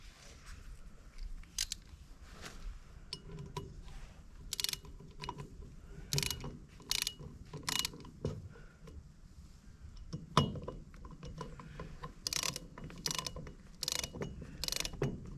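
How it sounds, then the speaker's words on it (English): A torque wrench ratchets on the six oil filter housing bolts of a 3.6L engine, tightened to 8 foot-pounds: irregular bursts of close mechanical clicking and clinking with short pauses between, and no talking. "You want to torque these 6 bolts right here to 8 foot-pounds."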